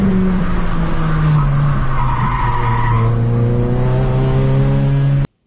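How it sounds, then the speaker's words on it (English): Race car tires squealing hard through the turns on a track day at Mission Raceway, with brakes worked hot; loud, sustained screech over steady engine drone for about five seconds, then an abrupt cut. "getting the brakes hot and squealing the tires in every turn"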